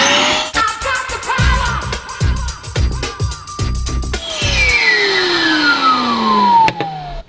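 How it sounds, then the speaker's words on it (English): A roughly 1,300-watt vacuum cleaner runs on an off-grid homestead's inverter power, making a loud, steady whine close by while bumps and clatters break in partway through. "I think the vacuum would be perfect."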